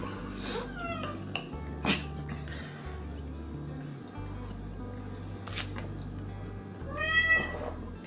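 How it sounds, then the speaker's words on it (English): A cat meows several times indoors in a kitchen, with a few short, fairly clear cries spread across the moment. A low hum and faint household sounds sit underneath. "Oh, there's Kitty."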